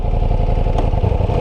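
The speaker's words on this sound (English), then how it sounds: "And now we can take this bike for a proper ride." A 2023 Ducati Diavel V4 motorcycle engine runs close and loud with a steady, throbbing mid-pitched drone and a rough clatter. A short higher burst comes partway through.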